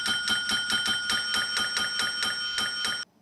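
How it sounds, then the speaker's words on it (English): A bright repeated bell ding, struck about a dozen times in a steady quick rhythm with sustained ringing overtones, loud and close, ending abruptly near three seconds. "but please ring-a-ding-ding the bell"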